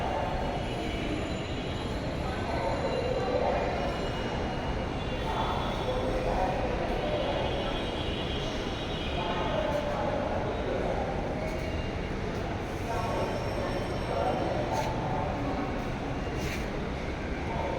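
A continuous low rumble of a metro train at a station platform with busy hubbub, faint squeals and clanks, and people talking in the background.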